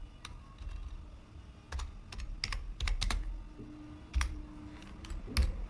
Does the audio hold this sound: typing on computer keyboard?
yes